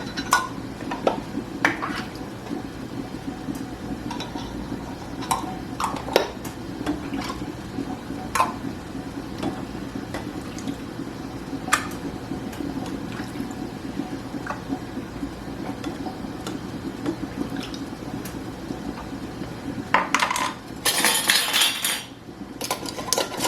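Metal lids and screw rings being set onto glass jars of chickpeas give a string of sharp clinks and taps, with a brief rattling clatter of metal near the end, against a quiet background.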